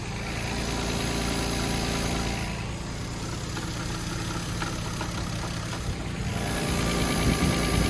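A Lexus GS300 car engine idles steadily up close, giving a continuous, even mechanical hum with a slight shift in tone partway through and no talking.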